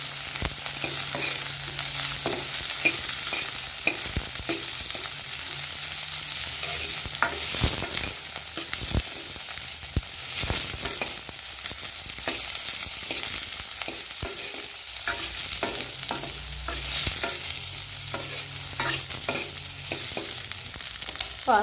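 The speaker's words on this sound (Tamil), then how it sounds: "கத்திரிக்காய் கொஞ்சம் நேரம் எண்ணெயிலேயே வதக்கிக்கலாம்." Eggplant sautéing in hot oil in a pan, a steady close sizzle with repeated scraping and stirring strokes running throughout, no voices.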